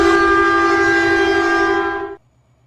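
A loud sustained train horn from a Metrolink train in a Roblox rail game, a steady close chord blaring for about two seconds before cutting off abruptly into quiet.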